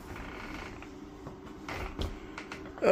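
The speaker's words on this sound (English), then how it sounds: "let's listen to the door creak as I close it." A door creaking as it swings shut, a drawn-out, uneven groaning squeak near the listener, ending with a louder knock as it closes, over a low steady background hum.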